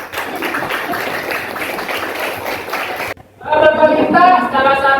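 Applause in a classroom for a student, a dense patter of many hands clapping for about three seconds, then cut off by a louder burst of children's voices.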